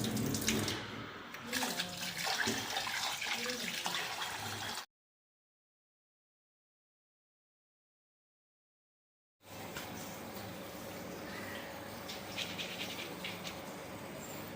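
Running tap water pours steadily over rice and lentils being washed by hand in a sink, a continuous close splashing flow that stops for several seconds and then resumes.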